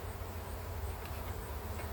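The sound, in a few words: honey bees buzzing in the hive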